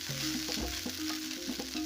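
Leftover rice with vegetables is stir-fried in a pan, sizzling steadily up close, with repeated scraping and tossing strokes from a utensil at an uneven rhythm.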